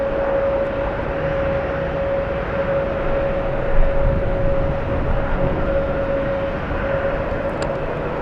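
A Boeing Dreamliner passes overhead as a broad, steady jet roar with a thin sustained whine running through it, constant in level throughout, with no voices.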